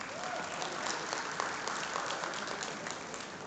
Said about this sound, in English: So please give a big round of applause to our celebrities here today.